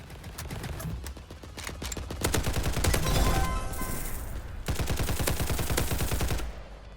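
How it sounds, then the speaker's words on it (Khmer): Rapid bursts of AK rifle fire in a Roblox shooter game, dense crackling volleys that start and stop in several runs, loud and close with no talk. "បាញ់ AK ម្ដងណា"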